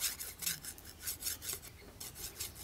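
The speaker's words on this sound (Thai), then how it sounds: "ผิวของไม้เอามาสี ให้ลิ้นมันแยกออกจากกันให้มันสะบัดได้นะครับแล้วก็ถูนะครับ" Rough wood skin is rubbed against the reed tongue of a khaen, giving a steady rasping scrape in quick repeated strokes, close and fairly faint, with no talking.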